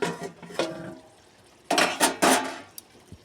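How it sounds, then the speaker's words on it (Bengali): A pot lid comes off and lote fish curry is stirred with a metal spoon, giving several sharp clanks and scrapes against the pot in short bursts with quiet gaps between. "আর একটু ফুটিয়ে নেব ঢাকা খুলে নাড়িয়ে নেব"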